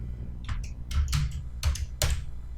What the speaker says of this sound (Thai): มาตัวใหม่กด delete พิมพ์คำว่า stroke ครับ